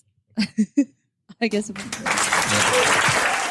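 Studio audience breaks into sustained applause after a few short spoken words, the clapping dense and steady for the last second and a half.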